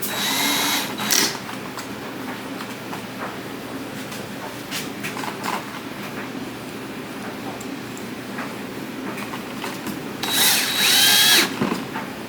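A power drill driving screws while a cheap eBay lip kit is fitted to a car body, with short high whirring bursts at the start and a longer one near the end, separated by quieter handling noise.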